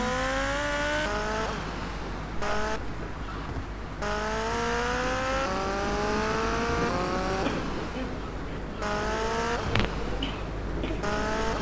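A car racing around a track in GTA Vice City, engine whining up through repeated gear shifts in rising sweeps, steady and loud throughout with a sharp knock near the end.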